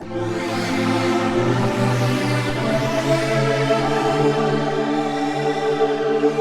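A sustained, dark, voice-like synth pad from a Korg ARP 2600, loud and steady with rich layered tones that slowly shift over several seconds, heard alone.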